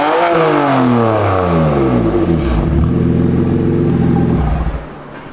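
BMW M4 engine revving hard through a restrictive factory exhaust, loud and close, with rising and falling harmonic sweeps over several seconds before easing off at the end.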